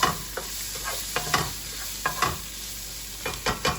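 Food sautéing in a hot pan, giving a continuous close sizzle broken by several stirring scrapes and taps of a utensil.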